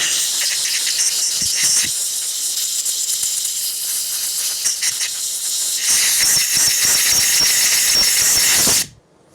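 A compressed-air blowgun blows onto a lawn mower carburetor in a loud, close, continuous hiss with short bursts and pauses, then cuts off abruptly at the end.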